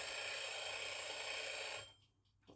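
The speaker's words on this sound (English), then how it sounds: "Perfect time for the alarm to go off." A loud, steady kitchen alarm rings continuously for almost two seconds during a home baking session, then cuts off abruptly, leaving near silence with a faint thump at the end.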